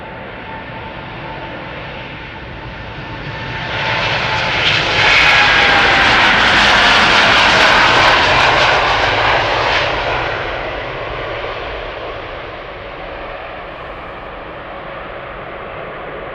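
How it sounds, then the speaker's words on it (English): A KLM Boeing 787-9 Dreamliner jet bound for Las Vegas roars past at an airport, its engines swelling from a distant hum to a loud, broad rush in the middle before fading away. "KLM flight 635 going to Las Vegas, 7879 Dreamliner, the PHBHH, 7 years old,"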